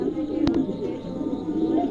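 A pair of pigeons of fancy breeds kept for sale, giving soft low cooing with a single sharp click partway through, close by over a steady background hum.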